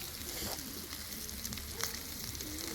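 Lamb kokoreç with onion and pepper sizzles on a sac griddle, a steady soft frying hiss with faint crackles and occasional stirring scrapes throughout.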